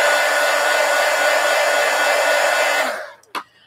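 A hair dryer blows steadily and loudly to dry a layer of watercolor pencil on paper, then switches off near the end, followed by a single short knock.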